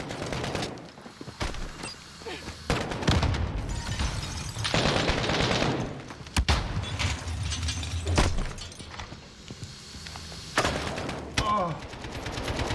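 Rapid bursts of gunfire crackle throughout a Call of Duty match, loud automatic volleys and sharp single shots close by, broken by brief lulls, with a player's voice talking over parts of it.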